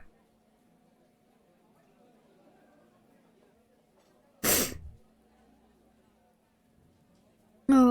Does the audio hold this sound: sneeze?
yes